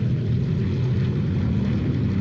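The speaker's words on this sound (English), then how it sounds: "Canadair CL-215, look at those round engines, listen to that sound." A Canadair CL-215 water bomber with round radial engines drones overhead, a steady low propeller rumble held at an even loudness throughout.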